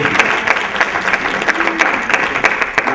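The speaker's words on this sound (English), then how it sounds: "Let's give a big round of applause" Attendees at a community meeting clap for an honoree, a loud, close round of applause with distinct individual claps popping out of the steady rattle of hands.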